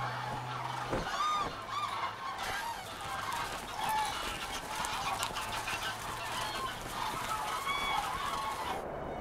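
Geese honking near the Skagerrak coast, repeated nasal calls from several birds against a steady background of other bird and outdoor noise, moderately distant.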